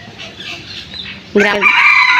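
A village rooster crows loudly and close by, one strong sustained call that breaks in after a stretch of quieter outdoor background.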